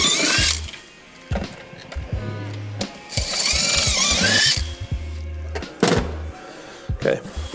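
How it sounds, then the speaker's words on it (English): Loud bursts of a power drill whirring and revving in short stops and starts as holes are drilled in a vehicle for a battery kit install, close up, with brief pauses between bursts. "And drill your holes."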